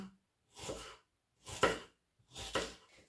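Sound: knife slicing onion into half rings

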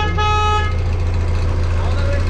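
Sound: tractor horn honking

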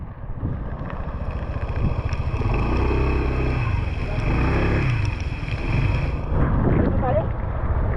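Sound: strong wind

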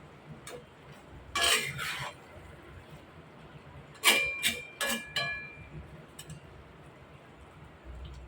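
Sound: stirring potatoes with fish roe in a pan

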